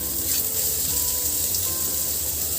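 Finely chopped onion added to hot oil in a pan gives a steady, even hiss of frying with no break, close and moderately loud, with no voices.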